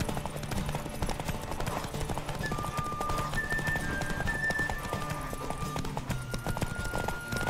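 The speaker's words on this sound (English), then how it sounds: "I can just keep on galloping forever." Steady hoofbeats of a galloping horse pound on continuously in The Witcher 3: Wild Hunt, with faint tonal interface chimes above.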